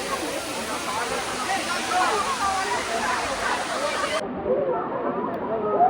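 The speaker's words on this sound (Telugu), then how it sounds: "ఇదైతే వాటర్ ఫాల్స్ అండి, వచ్చేసాం." Bhairavakona waterfall, a dense continuous roar of falling water, loud and close, with faint voices mixed in.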